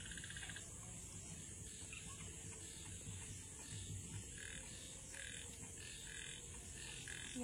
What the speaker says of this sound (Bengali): ব্যাঙের আওয়াজ দেখুন কত ঘরে।